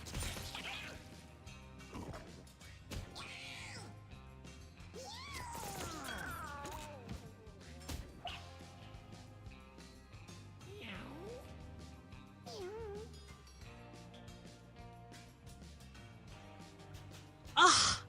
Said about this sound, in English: detonating kittens and flinging Puke with the lucky sling of mass destruction